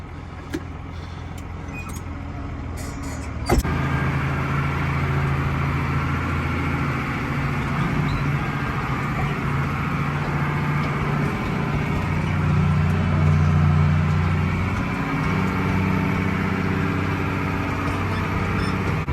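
Engine of a TM165 tractor hauling a trailer, running steadily and close for the whole stretch, with a brief clunk near the start and a slight swell partway through, and no talk.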